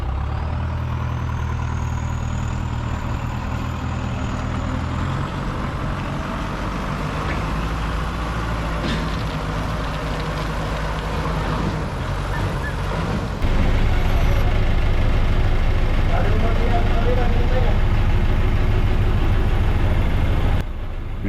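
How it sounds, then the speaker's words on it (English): In Rafael Freyre, Cuba, a Chinese Diana bus converted to run on narrow gauge railway tracks idles in a continuous, steady engine rumble. Partway through, the engine note grows noticeably louder and holds there. "a Chinese Diana bus converted for railway use on narrow gauge tracks"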